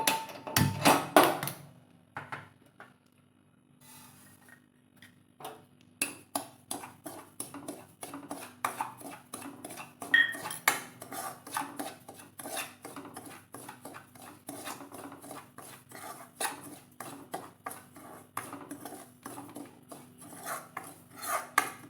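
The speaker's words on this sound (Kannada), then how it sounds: "ಮೊದಲಿಗೆ ಬಾಂಬೆ ರವೆಯನ್ನು ಹುರ್ಕೊಳ್ತಾ ಇದ್ದೀನಿ" Bombay rava is stirred as it roasts in a pan for kodubale, with a spoon scraping and tapping the metal in a long run of rapid, uneven strokes after a brief louder clatter at the start.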